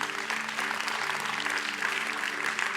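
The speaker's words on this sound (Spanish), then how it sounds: "Denle un aplauso a Dios en este día" Church congregation applauding during a Sunday compassion service, a steady dense wash of clapping throughout, with a low hum underneath.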